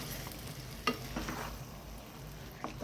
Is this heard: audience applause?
no